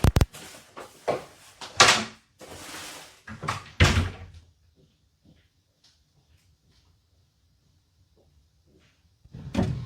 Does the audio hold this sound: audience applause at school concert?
no